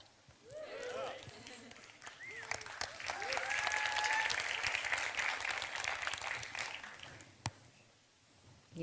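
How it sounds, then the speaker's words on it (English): An audience claps and applauds steadily for several seconds, swelling then tapering off, with voices and cheering mixed in. "You clapping up there?"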